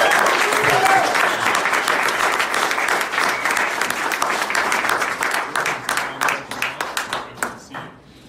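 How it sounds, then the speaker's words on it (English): A live audience gives a big round of applause at a community gathering, dense and sustained, then thinning into scattered separate claps as it fades out near the end, with a brief voice under the opening. "A big round of applause."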